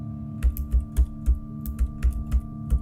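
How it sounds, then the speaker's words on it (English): Steady computer-keyboard typing from an animated scene, a run of fairly even, close keystroke clicks with a few louder taps, heard alone in a quiet room. "broken only by the sound of her keyboard"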